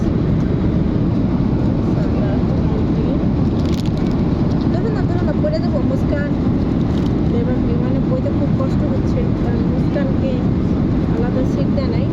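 Steady, loud broadband roar of an airliner cabin in flight on a trip from Saudi Arabia to Bangladesh, constant throughout with voices murmuring underneath.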